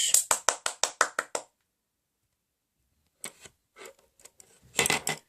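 A quick run of about eight sharp, evenly spaced hand claps for a singer, close and bright, then a pause before scattered taps and brief voice sounds.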